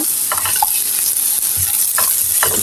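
Lightly fried sweet pumpkin pieces hiss steadily in a pan while a utensil stirs and scrapes them in short, irregular strokes, close and fairly loud.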